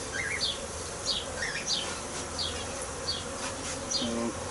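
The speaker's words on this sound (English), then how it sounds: "these bees are more assertive than the ones I work with" Honey bees buzzing all around during a hive trap-out, a steady droning hum with individual bees swooping close and away in repeated passes.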